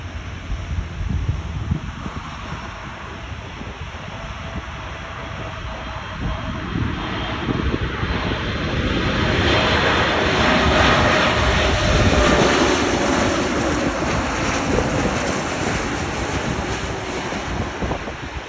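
A Lufthansa Boeing 747 roars with steady jet engine noise, swelling louder midway as thrust builds, mixed with wind rumble against the microphone and no talk.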